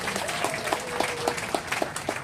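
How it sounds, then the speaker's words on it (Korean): Congregation at a memorial hall opening thanksgiving service in Korea closes the ceremony with applause, a sustained mix of many hands clapping with distinct nearby claps popping out, moderately loud and alone without speech. "그 박수로 마치겠습니다."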